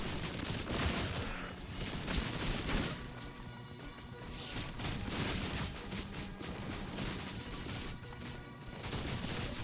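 Repeated thuds, clashes and impact noises from archers shooting in the video game Orcs Must Die, a busy, continuous battle mix with no talk over it.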